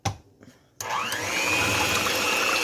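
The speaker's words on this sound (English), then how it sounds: "I'm just going to give this all a good whisk." Key lime cake batter with almond extract is whisked in a bowl: after a brief quiet start, a loud, steady whirring kicks in abruptly and runs continuously to the end.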